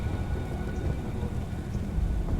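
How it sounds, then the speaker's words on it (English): Rain in the video game The Last Days of Lazarus, a dense continuous hiss of falling rain with a low stormy rumble beneath, steady and fairly loud with no speech. "It's cold and raining!"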